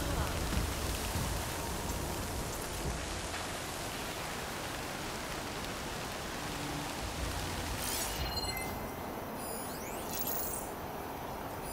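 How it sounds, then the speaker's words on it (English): Steady, dense rain pours in Horizon Forbidden West, a constant hiss of rain on surfaces with no voices over it. "This rain isn't doing my gear any favors."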